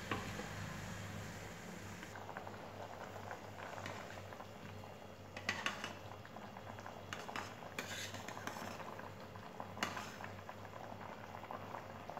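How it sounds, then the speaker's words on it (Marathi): Water bubbles and simmers steadily in a pan for cooking rice, a continuous soft boiling hiss with occasional louder pops. "उकळी आली पाण्याला"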